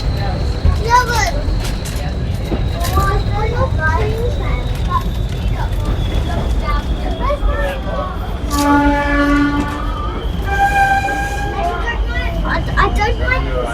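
A heritage train ride on the Epping & Ongar Railway, heard from on board: steady rumbling carriage and track noise runs throughout, a few tonal horn or whistle notes come near the end, and people talk over it.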